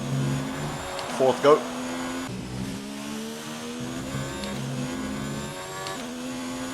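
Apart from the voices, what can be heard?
Formula 1 car engine in F1 2019 video game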